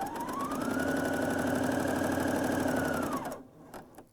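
A Bernina L 620 coverstitch machine sews a seam in one long, steady run of fast motor whir and needle chatter, rising in pitch as it speeds up, then stops abruptly, leaving near quiet.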